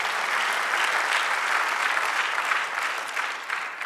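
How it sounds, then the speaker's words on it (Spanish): Church congregation applauding during a sermon, a steady wash of many hands clapping together, fairly distant and even throughout with no talk over it. "Dale otro aplauso."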